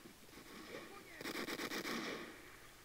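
Bursts of Mosin rifle fire in the video game Vietcong Fist Alpha crack out as a rapid string of shots, loud against a noisy in-game background.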